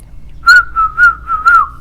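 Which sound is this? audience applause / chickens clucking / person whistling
person whistling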